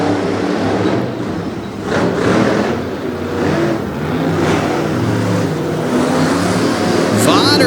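Monster trucks Black Stallion and Overkill Evolution race side by side at a 2022 monster truck event in Salisbury, their engines roaring loudly and continuously with rising surges while an announcer talks over them.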